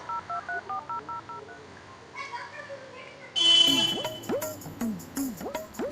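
A phone being dialed gives a rapid run of short keypad beeps, each a distinct tone, followed by other electronic tones and chirping sounds, close and fairly clear, with background voices partly mixed in.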